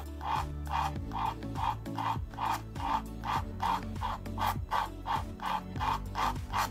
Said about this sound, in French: Je fais remonter et redescendre un petit peu mon couteau.